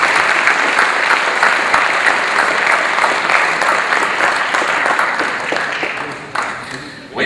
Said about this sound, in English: please give the contestants a big round of applause